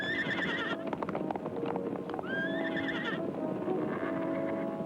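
Horses neigh and whinny loudly, with a steady clatter of hooves galloping underneath throughout.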